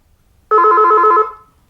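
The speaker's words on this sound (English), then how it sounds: "we have a phone call from Lerner" A single short telephone ring for an incoming call sounds alone, a loud trilling electronic burst lasting under a second before a brief fading tail, with near silence on either side.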